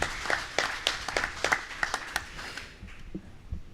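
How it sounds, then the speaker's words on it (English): A small audience at a Hare Krishna Sunday satsang gives a short round of applause for a kirtan leader, a few scattered claps that thin out and fade after a couple of seconds. "Let us give him a round of applause."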